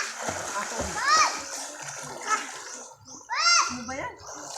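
Water splashes near a person swimming in cold water, with bursts of splashing amid excited children's shouts and voices throughout.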